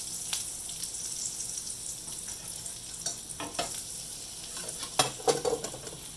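Butter sizzling in a saucepan on low heat, after morel mushrooms were cooked in it: a steady close hiss with scattered crackles and pops, plus a few scraping stirs, no talking.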